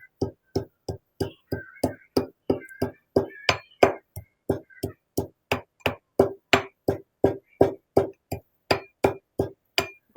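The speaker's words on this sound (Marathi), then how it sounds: "आता याला खलबत्त्यात मस्त बारीक कुटून घेते." Whole spices for a homemade masala pounded in a mortar and pestle, with steady, evenly spaced hard clinking strikes of about two or three per second, close and fairly loud, continuing throughout with no talking.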